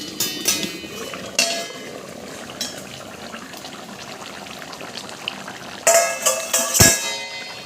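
A metal lid is lifted off a cooking pot of taro and hilsa fish curry, with a few sharp clanks and clinks near the start and a cluster of ringing metallic knocks toward the end over a quiet simmer.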